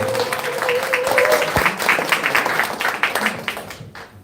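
At a political rally for a People Power Party candidate, the audience claps in a loud burst of applause that gradually loosens into scattered, uneven claps, with a voice briefly heard at the start.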